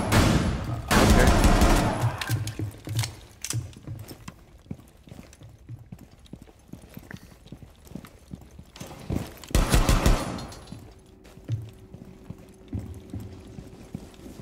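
Rapid gunfire rattles in Rainbow Six Siege, with loud sustained bursts at the start and again around ten seconds, plus scattered single shots and clattering footsteps between them.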